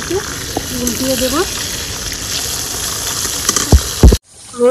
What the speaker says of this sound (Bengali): লাল লাল করে ভাজা হয়ে গেছে, উল্টিয়ে দেব।